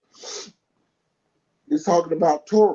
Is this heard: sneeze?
yes